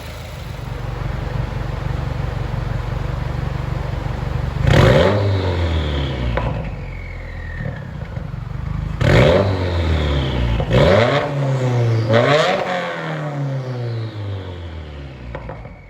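A warmed-up engine running at idle with a cover fitted, then revved hard several times in sharp bursts that rise and fall back, loud and close with no talking.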